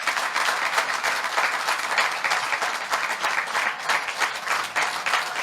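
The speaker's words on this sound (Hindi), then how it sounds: "तो एक बार तालियां उनके लिए बजे तो मुझे अच्छा लगेगा" Audience at a Haryanvi comedy and hasya kavi gathering applauds poet Santoshanand, a steady, dense burst of many hands clapping that holds level for several seconds without letting up.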